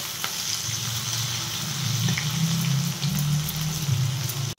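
Onions fry in hot oil with bay leaf, cardamom and cinnamon, giving a continuous close sizzle with soft crackles and faint stirring, steady throughout and ending suddenly.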